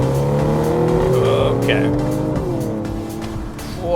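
BMW M135i hot hatch in sport mode with manual shifting, its engine rising in pitch as it pulls hard after a downshift, loud and close from inside the cabin, with a brief spoken word over it.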